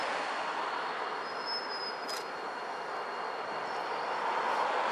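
A BNSF and Union Pacific freight train led by a GP40 and a GP38-2 locomotive rolls past beside Puget Sound, giving a steady, loud broadband rumble of cars and wheels with a faint thin squeal and a brief hiss.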